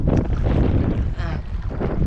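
Steady wind rushing across the microphone on a boat at sea, a loud, continuous low roar with gusty fluctuations throughout and no clear speech.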